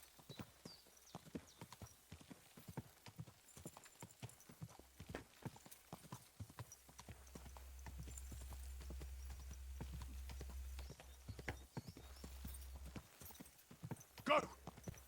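A horse canters in Kingdom Come Deliverance II, a fast rhythmic clip-clop of hooves running steadily throughout, joined midway by a low droning rumble and ending with a brief louder burst.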